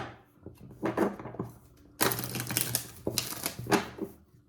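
Tarot cards shuffled in the hands in quick riffling bursts, close and fairly loud, a few separate rounds of crisp card flutter with short pauses between, no talk.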